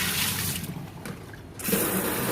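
Water streams and drips from a washed mohair fleece as it is lifted and squeezed over a tub, a steady close splashing trickle that dips briefly and then swells louder again.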